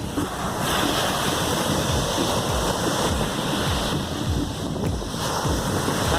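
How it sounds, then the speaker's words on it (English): Big ocean waves break and surge continuously on the shore at Elliot's Beach, a loud, unbroken roar of surf mixed with buffeting wind on the microphone. "I haven't seen so big waves at a shore."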